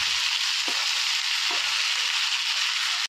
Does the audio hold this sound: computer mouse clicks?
no